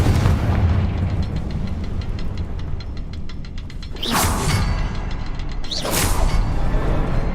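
A game's Confringo blasting spell goes off in two loud, booming explosions a couple of seconds apart, each a sharp burst with a roaring tail over a busy background rumble.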